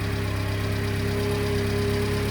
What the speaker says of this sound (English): Just after the valve job, restarting it, yeah, there's a lot of clatter that I no longer hear.